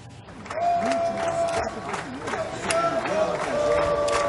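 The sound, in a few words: football fans applauding and shouting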